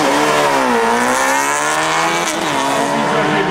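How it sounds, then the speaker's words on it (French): A Fiat 500 VRC fitted with a motorcycle engine launches on a hill climb run, its high-revving engine screaming loudly as the pitch rises, dips at a gear change and climbs again. "C'est parti pour Bart Zadler sur cette petite Fiat 500 VRC à moteur moto."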